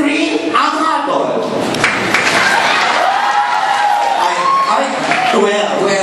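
Audience clapping for a candidate at a live gay pageant sitcom show, a sustained burst of applause and cheering lasting several seconds, with voices shouting over it.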